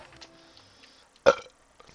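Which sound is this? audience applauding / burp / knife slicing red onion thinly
burp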